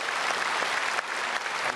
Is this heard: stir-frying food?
no